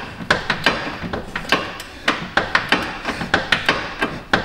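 Torque wrench clicking while tightening a control arm bolt on a Buick Encore front suspension: a steady series of sharp, close, loud metallic clicks repeating at an irregular ratchet-like rhythm, with no talking.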